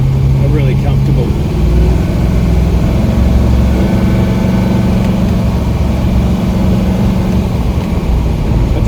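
Engine of a WB Holden ute fitted with a 355 V8, droning steadily from inside the cab while driving, low rumble throughout.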